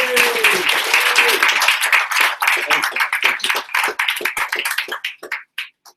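Warm applause from a conference audience welcoming a keynote speaker, an e-commerce expert, dense clapping that starts loud and full, then thins into scattered individual claps and fades out near the end.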